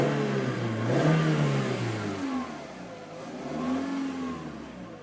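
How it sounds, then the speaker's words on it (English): A 1999 Volkswagen Beetle GLS with 135,000 miles, valve chatter and a rattling heat shield is revved twice, its engine note climbing and falling each time, with a loose mechanical clatter on top, heard close up and without talk. "Let's go ahead and give it a quick rev."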